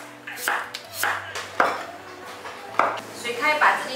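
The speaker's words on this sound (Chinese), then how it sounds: "现在把这些配菜切一下。" A knife chops side vegetables for mala xiang guo on a cutting board, a handful of sharp, close cuts at an uneven pace with short pauses between them.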